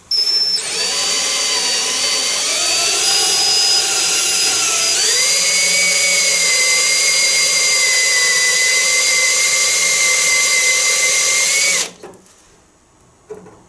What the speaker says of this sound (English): pop your drill bit into it